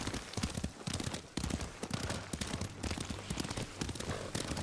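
Horse hooves clip-clopping at a steady rhythm during a ride in Ghost of Tsushima, set against dense rain-like ambience and loud game noise.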